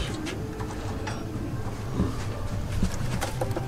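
Newly paired Madrasi pigeons cooing in a loft, repeated soft throaty coos at close range with light background noise and no talk.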